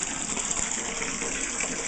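Water gushes steadily from a tap into a tub being filled for a cat's bath, a constant close rushing splash with no pauses.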